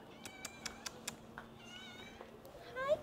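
A cat meows a few times nearby at a rainforest lodge in Belize, short plaintive cries, with light tapping clicks and a faint steady hum underneath.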